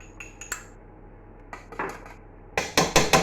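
A metal spoon scrapes and clinks against a pan while gathering hard cheese fat, starting as a few light taps and ending in a run of louder, close scraping knocks.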